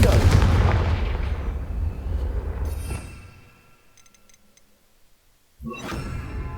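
A Confringo blasting spell fired in the Hogwarts Legacy video game: a loud, booming explosive burst with a rumbling tail that fades to near silence, then a second sharp blast erupts near the end.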